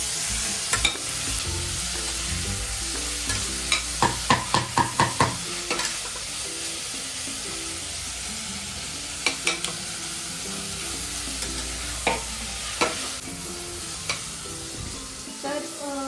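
Onions sautéing in oil until reddish for a spicy mutton curry, a steady close sizzle running throughout, with bursts of sharp spoon scrapes and stirring clatter in clusters near the start and again later.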